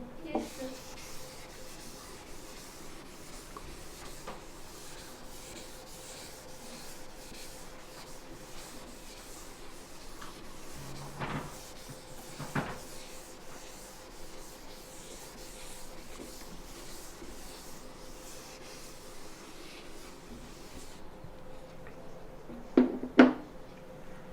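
A board being wiped clean of written working during a quadratic equation lesson: a steady, soft rubbing texture under a faint voice, ending in a couple of sharp knocks.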